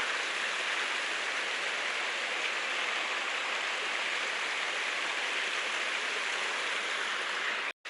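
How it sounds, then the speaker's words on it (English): A small waterfall on a hiking trail in the Smokies rushes steadily with a dense, even hiss of falling water, close and continuous, cutting off abruptly at the end. "That's the upper part of the waterfall."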